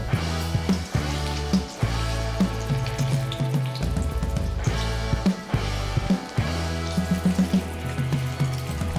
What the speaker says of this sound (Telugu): నూనెలో మెల్లగా వేసుకోవాలి.